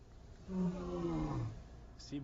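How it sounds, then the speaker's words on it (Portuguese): Male lion roaring in the wild, a single deep drawn-out roar with falling pitch, close and loud, followed by a brief fainter grunt. "Seaboy começou a rugir"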